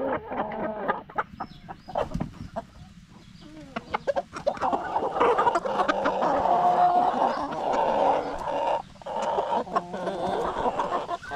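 Several hens clucking close by, a busy overlapping chatter of clucks and squawks with occasional louder calls, no talking.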